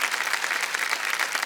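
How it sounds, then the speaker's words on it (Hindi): Studio audience on the TV quiz show KBC applauding, a dense, steady burst of many hands clapping at close range with no break. "ताली बज जाए मेरे लिए"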